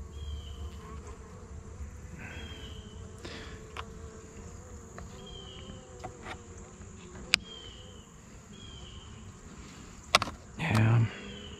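Honey bees hum around an open horizontal hive during an inspection, a faint, steady buzz with occasional individual bees droning closer, plus a couple of brief sharp knocks near the end.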